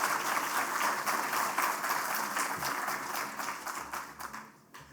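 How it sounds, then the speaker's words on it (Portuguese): A lecture audience gives a round of applause to welcome a speaker, full steady clapping that thins and fades toward the end. "Leandro Roque, por favor, uma salva de palmas."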